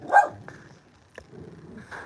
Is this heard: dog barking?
yes